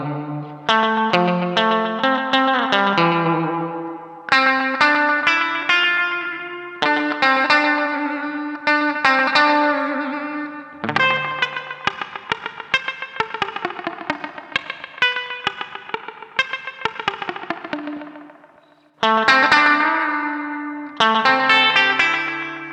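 Clean electric guitar through Joyo American Sound and AC Tone amp-sim pedals plays twangy melodic phrases with echo and reverb, alone and fairly close, with a short pause before the final notes.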